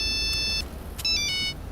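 A phone ringtone in a Tamil action film, playing as two bursts of steady electronic tones separated by a short pause, clear and fairly loud over a low background rumble.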